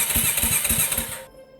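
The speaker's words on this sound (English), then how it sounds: "Alright, we'll give it a couple of kickovers." A Yamaha Kodiak 450 ATV engine is kicked over, giving a quick run of rhythmic, throbbing chugs up close for about a second before it abruptly cuts out into near silence.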